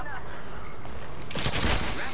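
Gunfire in the video game Apex Legends breaks out in a dense, loud burst of rapid shots in the second half, under and around a person talking.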